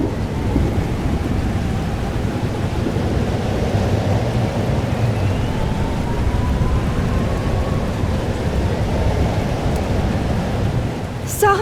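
Steady rain and a low rumbling storm from Life Is Strange: Double Exposure, a constant dense wash of rainfall with deep thunder rolling underneath and voices speaking over it.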